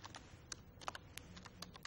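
Quick, uneven clicks of typing on a computer keyboard, close by and fairly quiet, with a steady stream of keystrokes and no talking.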